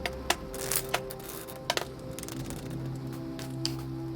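Quick, irregular papery snaps and clatters of tarot cards being shuffled close by, with soft tonal music playing underneath.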